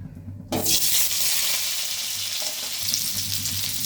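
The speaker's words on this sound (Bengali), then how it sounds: "এখন আমি আলুগুলো ভেজে নিব" Small red potatoes drop into hot oil in a wok and erupt into a loud, steady sizzle that holds strong and close throughout.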